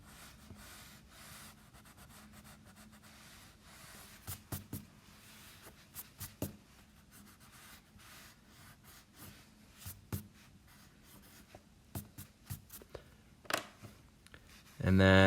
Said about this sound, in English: I'm just going to use this number 2 pencil eraser